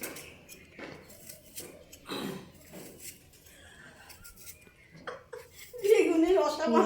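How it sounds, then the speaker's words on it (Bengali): A household kitchen where the deity's metal dishes and utensils are washed, with intermittent clinks and clatters of pots and cutlery, a voice talking over them, and a louder spell of scraping and splashing near the end. "দিদা যাইতেছে দেখো ঠাকুরের বাসন ধুইতে"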